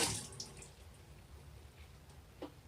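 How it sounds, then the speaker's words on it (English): Dirty water from the tank of a Bissell 3624 Spot Clean Professional portable carpet cleaner pours into a sink, a brief splashing rush fading into faint trickling and a few drips. "then we can just pour this into the sink"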